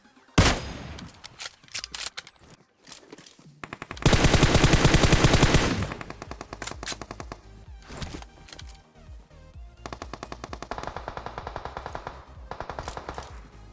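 Bursts of automatic gunfire in the battle royale game PUBG Mobile, with a loud sustained volley in the middle and scattered rapid shots before and after, close and dominant with no talk.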